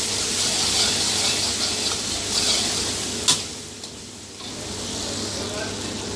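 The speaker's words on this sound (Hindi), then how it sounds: "ये जो मसाला है इसको अच्छी तरह भून लेना ताकि कैप्सिकम भी जो वो भी नरम हो जाए, गल जाए।" Spices and capsicum frying in a pan for restaurant-style chicken chili give a steady, close sizzling hiss, with a brief stirring clink midway.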